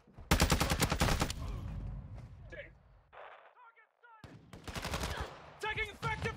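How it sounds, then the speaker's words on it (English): Gunfire in a first-person shooter multiplayer match, a loud rapid burst at the start, then quieter shots, in-game voices and sound effects, with more shooting near the end. "Taking effective fire!"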